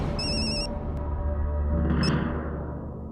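A telephone rings indoors with a bright electronic trill, one burst near the start and a shorter one around two seconds in, over a steady low background hum; no one speaks.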